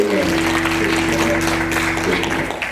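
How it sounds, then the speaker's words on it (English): Church congregation applauding at a scholarship event, a dense steady wash of clapping sustained throughout, with a held musical tone underneath. "give yourselves a big round of applause for that"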